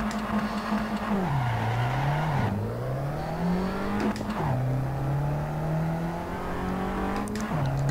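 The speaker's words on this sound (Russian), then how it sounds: "Катаемся на Фиате Абарте." A Fiat Abarth 500 small racing car in Assetto Corsa on a time attack at Vallelunga, its engine droning loud and steady, rising and falling as it shifts through gears, with tire noise and no talk.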